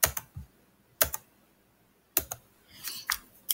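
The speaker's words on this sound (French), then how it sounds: "je pèse sur le bouton Alt de mon clavier" Several sharp, separate key clicks from a computer keyboard sound close and clear, arriving in a loose, irregular rhythm with quiet gaps between them and a small cluster of taps near the end. No one speaks.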